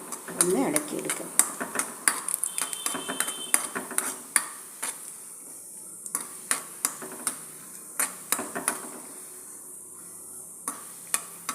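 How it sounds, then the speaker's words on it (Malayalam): Chopped cashew nuts are stirred in hot ghee, with repeated sharp clicks of a spoon against the pan over a light sizzle, fairly close, and some faint background voice. "നെയ്യ് ചൂടായതിന് ശേഷം ചെറുതായിട്ട് കട്ട് ചെയ്ത കാഷ്യൂ നട്ട്സ് നന്നായിട്ടൊന്ന് ഒരു ഗോൾഡൻ ബ്രൗൺ കളർ ആകുന്നവരെ ഒന്ന് ഇളക്കിയെടുക്കുക"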